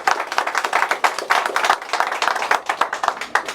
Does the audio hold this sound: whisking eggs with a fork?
no